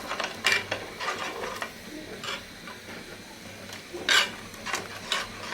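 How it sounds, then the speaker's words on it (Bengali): A spoon stirs caramel into milk in a pan while making caramel tea, producing irregular scraping and clinking bursts over a soft background hiss. "এখন আমি অনবরত নেড়ে ক্যারামেলগুলো মিশিয়ে নেব"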